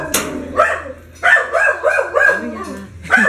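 A puppy yaps and whimpers in a string of short, high barks close by, with faint background noise between the calls.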